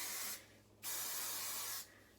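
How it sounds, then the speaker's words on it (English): Two bursts of hairspray aimed at hair being swept back into a ballet bun, a short hiss and then a longer, steady one, close and fairly loud with a brief pause between. "So once the hair is up, you're gonna wanna spray all of this back."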